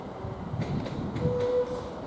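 A train at Ashford International station runs toward the sidings, heard as a soft distant rumble with a few faint rhythmic clacks and a brief tonal squeal.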